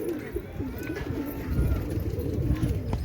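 Pigeons coo close by in low, throaty, repeated calls over a soft background hiss.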